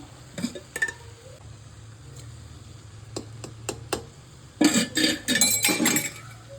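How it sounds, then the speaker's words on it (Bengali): Poppy seed halwa is stirred with ghee in a pan, with a few isolated clinks and taps of a utensil on the pan, then a busy, louder stretch of scraping and clattering strokes. "নাড়ো, এটা নেড়ে নেড়ে একদম টাইট হবে"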